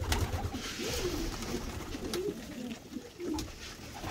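Pigeons coo softly in a bird keeper's loft, low repeated throaty coos overlapping in an irregular rhythm, fairly close but quiet over faint background noise.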